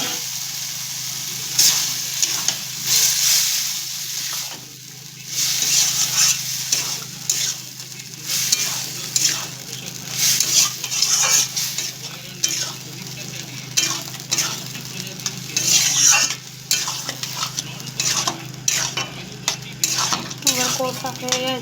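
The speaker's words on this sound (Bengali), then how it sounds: "এবার আলু সিদ্ধ আর কড়াইশুঁটিটা দিয়ে দেবো।" Boiled potatoes and green peas sizzle in hot masala in a pan while a spoon stirs and scrapes them repeatedly, with clinks of metal on the pan over a steady frying hiss.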